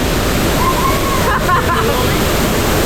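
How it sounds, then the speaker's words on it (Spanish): Powerful waterfall at Canaima, Venezuela, a loud, continuous roar of falling water filling the whole scene, close and steady with no break, while faint voices rise briefly over it. "Muchísima fuerza el agua que cae"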